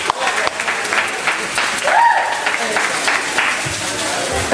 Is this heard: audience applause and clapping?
yes